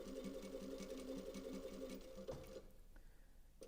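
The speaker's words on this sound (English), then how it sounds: "It is so-called top stitching." A sewing machine top stitching binding, a rapid, even mechanical chatter close by that runs steadily and then stops abruptly, leaving a quiet room tone.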